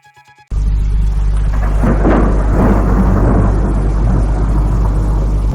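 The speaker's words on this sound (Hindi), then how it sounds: "कुछ दिनों तक लगातार बारिश होती रही।" Thunder rumbles over a dense roar of heavy rain. It is loud and continuous and follows a brief quiet moment at the start.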